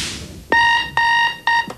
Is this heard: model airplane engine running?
no